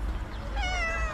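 A cat meows once, close and clear, over a steady low background rumble.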